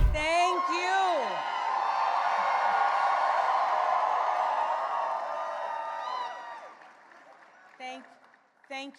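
A crowd of supporters at a Virginia election night victory event for the governor-elect cheers loudly, with whoops and shouts forming a dense sustained roar that fades near the end, followed by brief spoken words.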